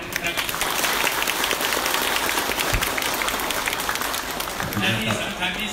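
Villagers at a flood-relief handover event in Ubon Ratchathani applaud, a dense clapping wash with crowd noise and voices mixed in throughout.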